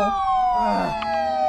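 A video-game police car siren wails steadily in a sustained electronic tone, fairly loud and close, with faint background noise and no speech.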